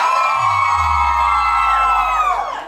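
A crowd at a Halloween K-pop party cheers and shouts loudly in a sustained roar that fades slightly at the end.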